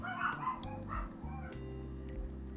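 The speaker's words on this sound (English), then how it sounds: "excuse my puppy barking" A puppy indoors gives a few short yips and whimpering barks as someone comes to the door, heard over a steady low hum.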